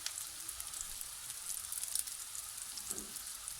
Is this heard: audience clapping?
no